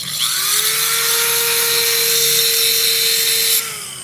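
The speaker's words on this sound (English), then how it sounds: "I'm using our 150 grit diamond sharpening wheel." A 150 grit diamond sharpening wheel spins up to a loud, steady high whine while a blade is sharpened on it at a tool expo booth, then the pitch drops as it winds down near the end.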